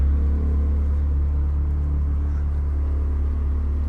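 A Ferrari 360 Modena engine holds a steady, deep low rumble at close range, unbroken and even for the whole stretch with no talking over it.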